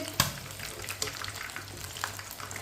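Chicken frying in a pan, a steady soft sizzle with occasional crackles and a brief louder pop near the start, close by and moderately quiet.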